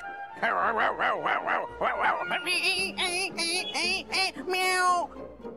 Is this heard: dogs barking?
yes